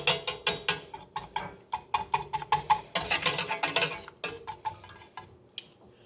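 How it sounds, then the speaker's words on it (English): Homemade paint being stirred and mixed by hand, a quick series of close tapping clicks and scrapes of a utensil against a container, rhythmic and busy, pausing briefly near the end. "I'm going to do a little more mixing"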